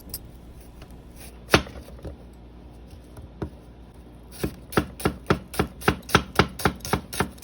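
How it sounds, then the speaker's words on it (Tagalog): Knife cutting onion into small pieces for sautéing on a board: a few scattered chops, then a quick, steady run of about a dozen crisp, close knocks. "Ang gawin naman natin hiwa ng sibuyas ay hiwang panggisa."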